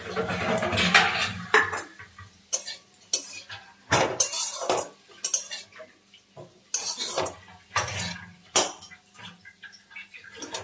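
A utensil scrapes and clinks against a pan of fenugreek greens and fried eggplant in repeated, uneven strokes, close by and fairly loud, with brief pauses between stirs.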